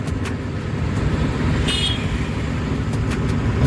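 Steady, loud road traffic with many vehicles passing close by, a continuous engine and tyre rumble with a brief horn toot in the middle and no talking.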